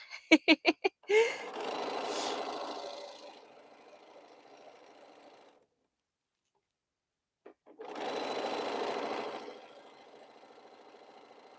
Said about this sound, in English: I'm almost finished sewing this border on.